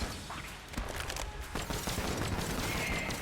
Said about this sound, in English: Good explosions there.